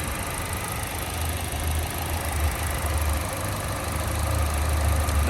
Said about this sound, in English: Little 4-cylinder motor. It is running healthy.